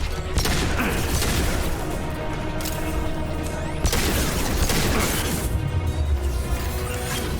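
Heavy pistol gunfire in Mass Effect 2 combat, repeated sharp shots and crashing impacts over dense rumbling battle noise, loud and continuous throughout.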